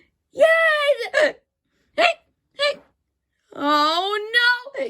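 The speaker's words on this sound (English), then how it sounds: "we still cannot get rid of Marshmallow's hiccups" A cartoon marshmallow character hiccups among short voiced squeaks and whimpers, with brief sharp bursts separated by pauses and a longer wavering vocal sound at the end, all closely miked.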